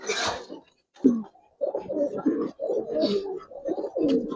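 Giribaz pigeons at a loft give a series of soft, throaty coos in repeated bursts, close by and fairly quiet.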